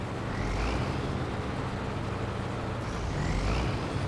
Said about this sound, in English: Every time you hear my engine rev up, that's me letting off the throttle.